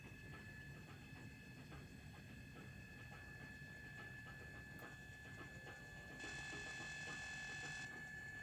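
A small home craft printer whirs and ratchets, with a steady fast clicking gear mechanism throughout and a brighter buzzing burst near the end, faint and without talk.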